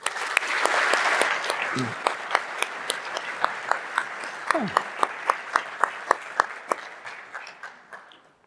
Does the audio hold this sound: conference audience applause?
yes